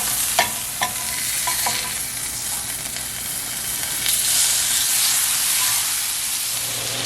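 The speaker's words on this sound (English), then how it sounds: "get some butter and put it in the pan" Butter melts in a hot pan with a steady, close hiss and sizzle throughout, broken by a few light clicks of a utensil early on.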